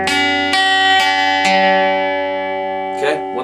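A guitar chord from a song is picked note by note, skipping two strings, with four clear plucks about half a second apart ringing into a long close decay, then a soft rustle.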